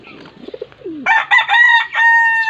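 Pet pigeons at feeding time, with loud harmonic bird calls from close range starting after a second of softer warbling and lasting to the end.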